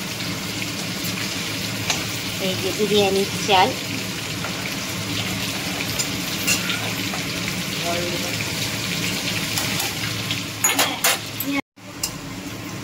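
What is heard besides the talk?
potatoes frying in oil until reddish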